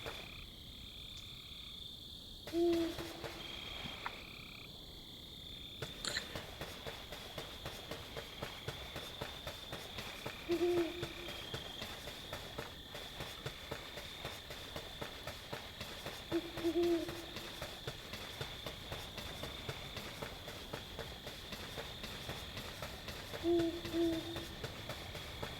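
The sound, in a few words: owl hooting, Death's Door video game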